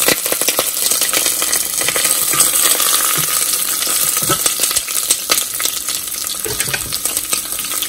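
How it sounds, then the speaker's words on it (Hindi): Whole dried red chillies sizzle steadily in hot oil for a dal tadka, a dense continuous crackle with scattered pops and light stirring clatter, close and moderately loud with no talk. "उसके बाद हम इसमें डालेंगे साबुत मिर्च"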